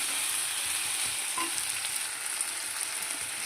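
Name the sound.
wild gourd (athalakkai) frying in oil with curry leaves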